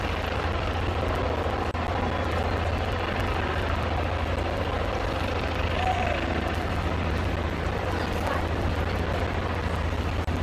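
Helicopter in flight, a steady loud rotor and engine drone filling the whole stretch, close and continuous without a break.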